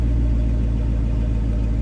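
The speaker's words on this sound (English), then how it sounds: "that's the V8 idle" A warm V8 car engine idles steadily, a deep continuous low rumble with an even, burbling pulse, close and loud, no voices.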